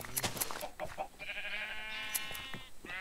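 Sheep in a video game bleat while their wool is sheared: a few short bleats at first, then longer sustained, wavering cries in close succession.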